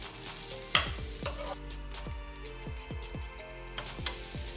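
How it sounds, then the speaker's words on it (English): Fried rice sizzles in a hot pan while a metal spatula scrapes and taps it repeatedly, a close run of clinks over a constant frying hiss, with no voices. "Mix it all up so that all the rice breaks apart"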